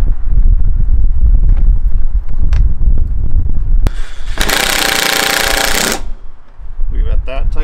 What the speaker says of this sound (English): I'm going to spin that in with an impact.